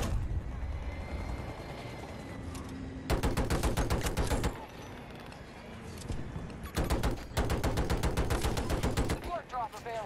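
Battlefield 2042 gunfire, two loud bursts of rapid automatic shots with quieter battle noise between them, ending with a short headshot cue.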